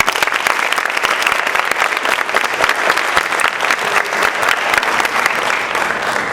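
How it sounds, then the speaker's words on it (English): A crowd gives Mrs. Thomas a sustained round of applause at a panel event honoring women in basketball. The dense, even clapping holds at full strength throughout, with no voices rising above it. "Let's show Mrs. Thomas our appreciation by a round of applause."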